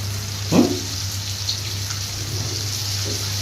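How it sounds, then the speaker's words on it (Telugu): Potatoes lifted out of a bowl of soaking water make a short splash early on, followed by faint drips over a steady background hum. "వాటిని ఈ నీళ్ళల్లోంచి తీసేసి ఇలా నీళ్ళని ఇలా ఉంచేసి ఇలా వేసేద్దాం"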